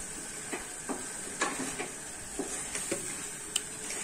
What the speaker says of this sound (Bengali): চিকেনটাকে আমি হালকা করে কষে নিচ্ছি